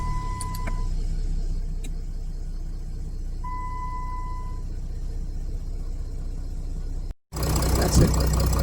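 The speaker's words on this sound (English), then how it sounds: "All we have to do now is start the car," A car starting and settling into idle after its battery was protected by a discharge guard. A steady low engine hum runs under faint tones, then cuts briefly before a louder, rougher rumble resumes.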